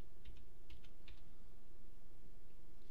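Keys on a computer keyboard click in a few quick, quiet bursts over a steady background hum, with no voices.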